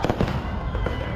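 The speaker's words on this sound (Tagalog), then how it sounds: "Sa gitna naman ng fireworks display sa Oroqueta, Misamis Occidental, biglang lumipad ang mga paputok sa mga manunood." Fireworks burst during a display in Oroquieta, Misamis Occidental, where stray shells flew into the crowd of spectators; dense, rapid crackling pops and booms at moderate distance, with faint voices underneath.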